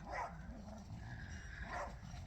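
Dog on a walk giving two short barks about a second and a half apart, fairly faint and slightly distant outdoors, no voices over them.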